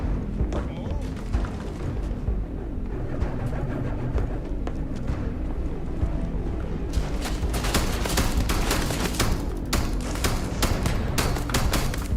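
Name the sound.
gunfire exchange in a video game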